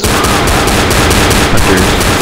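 Rapid automatic gunfire fills a Left 4 Dead-style shooter set in ice caverns, loud, dense and continuous bursts with no pauses, close up and unaccompanied by talk.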